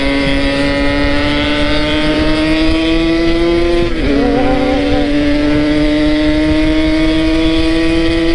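Motorcycle engine held at high, steady revs throughout, loud and close, with a brief dip in pitch midway before climbing again; strong wind noise runs underneath.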